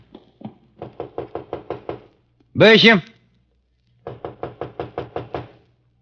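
Knocking on a locked door in an old-time radio detective drama: two rapid, close, loud runs of sharp knocks, split by a man calling out once.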